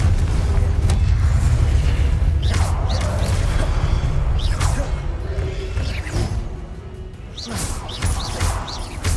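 Repeated booming blasts of the Confringo spell in a Spider-Man wizard training battle, loud and dense, with whooshing and crashing hits recurring throughout.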